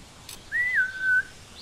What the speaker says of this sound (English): Somebody keeps whistling at me